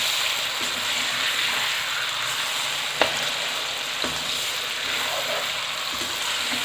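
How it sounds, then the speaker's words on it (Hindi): Boneless chicken fries in a karahi for an achari dish, a loud continuous sizzle close up with a couple of light clinks of stirring. "अब चिकन को इसमें हम 2-3 मिनट तक फ्राई करेंगे अच्छा सा।"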